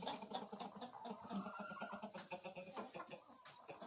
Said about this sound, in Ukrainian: А ось основні. тут усі курочки.